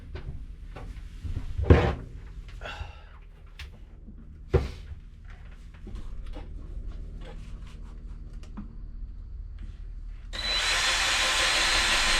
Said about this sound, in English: and drill it out right here.